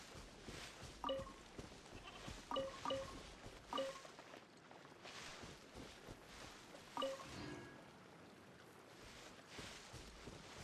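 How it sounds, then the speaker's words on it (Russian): A mountain goat-like animal in the video game Genshin Impact bleats in several short calls, quiet and spaced apart, over soft game ambience. "Типа горного козла."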